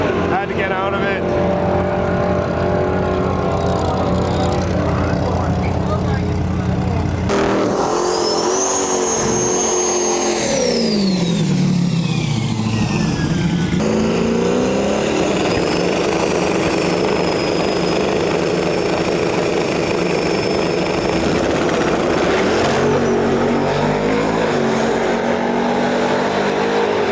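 Drag racing car making a full-throttle pass at Sick Week drag-and-drive event, loud engine roar rising and falling with gear changes, shifting pitch as it passes, with commentary talking over it.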